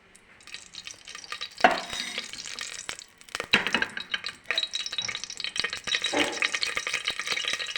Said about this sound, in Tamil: வட்டி காஞ்சிடுச்சு எண்ணெய் ஊற்றிக்கலாம்